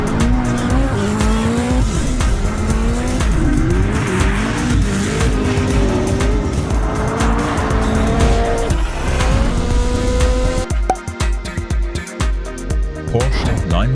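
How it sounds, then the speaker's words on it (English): A Koenigsegg Jesko sports car drives hard and loud, engine revving and rising in pitch through gear changes, with tire squeal, over background music. "Koenigsegg Jesko."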